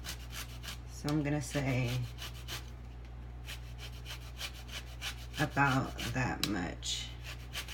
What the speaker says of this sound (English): I zest the whole lemon